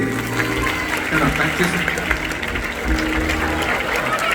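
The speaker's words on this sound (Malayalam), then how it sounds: "അജയ്ക്ക് നല്ലൊരു കൈയടി." A live audience breaks into dense, sustained applause for a contestant at a stage show, the clapping loud and steady throughout, with crowd voices mixed in.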